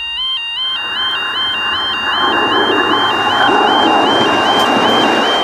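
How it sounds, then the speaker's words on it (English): An electronic level crossing warning tone repeats in a steady two-note pattern, ringing over the rumble of a passing train. "Did you notice that the warning tone changed for the second train?"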